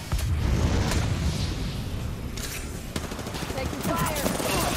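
Gunfire in an Apex Legends match, dense rapid bursts and overlapping shots crackling almost continuously at close range, with a brief voice underneath.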